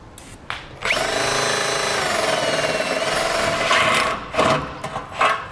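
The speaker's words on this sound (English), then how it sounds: "we're going to be drilling out the holes located here in the front using a 17/32 drill bit" A power drill with a 17/32 bit whines steadily for several seconds as it bores through a 2009 Pontiac G6's metal front bumper, close and loud, then stops and restarts in short bursts.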